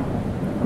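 Thunder and rain ambience from the video game Gone Home: a steady, dense rumble with rainfall hiss, continuous and fairly loud throughout the short stretch, no voices.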